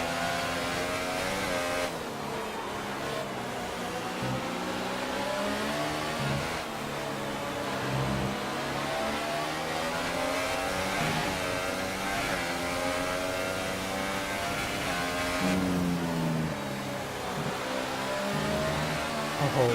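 Formula 1 cars in a racing video game scream around a German circuit, engine notes rising and dropping through gear changes in a steady, continuous whine with no speech.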